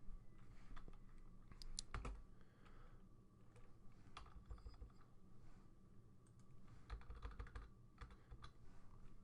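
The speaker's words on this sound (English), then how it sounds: "So let's just type in Bigfoot hide and seek" Quick bursts of computer keyboard typing as a search term is entered, the keys clicking in short runs with pauses between, close but fairly quiet, with no talking.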